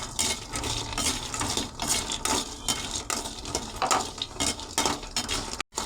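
Cardamom dry-roasted in a hot pan, stirred steadily so the pods rattle and scrape against the metal in a busy, loud, continuous clatter with no voices.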